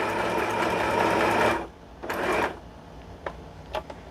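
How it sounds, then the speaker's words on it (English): Dechow portable sewing machine stitching a loose zigzag, a close, brisk mechanical whirr for over a second, then a short second burst and a few faint clicks as it stops. "Number 11 is going to be even a looser zigzag. And then number 12,"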